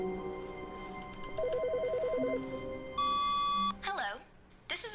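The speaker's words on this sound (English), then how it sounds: "The phone's ringing." A telephone rings in The Stanley Parable video game, a warbling electronic trill followed by a sustained steady tone, heard over a faint background hum before a voice speaks.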